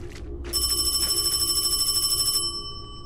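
In the horror game Paranormal HK, a phone bell trills loudly and continuously for about two seconds after a short lead-in, then cuts off, leaving a quiet hum behind. Nobody speaks.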